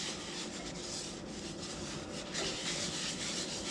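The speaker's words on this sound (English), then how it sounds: "I just give the pan a quick rub." A 40-year-old cast iron pan is wiped with an olive-oiled paper towel, a continuous close scrubbing rub with rhythmic back-and-forth strokes.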